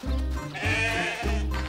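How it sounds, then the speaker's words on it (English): Sheep bleating in a snowy animated countryside scene, three loud, close baa calls with short gaps between them, the middle one higher and more strained, and no talking. "Looks like the sheep are playing follow the leader with you, Jess."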